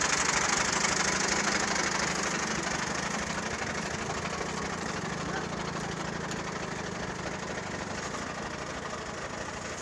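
A tractor engine fitted with a built-on excavator and backhoe system idles steadily, a constant mid-pitched rumble with no revving, close and even throughout.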